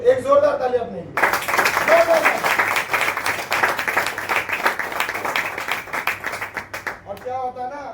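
An audience at a network marketing training session breaks into dense, steady applause that runs for about six seconds before cutting off, with a speaker's voice briefly before and after.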